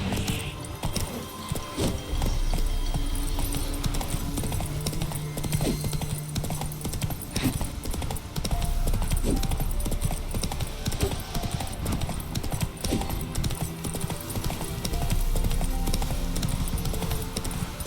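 Roach the horse in The Witcher 3 clip-clops steadily at a trot with a close, rhythmic hoof beat that keeps going throughout, over a low game soundtrack and ambient background.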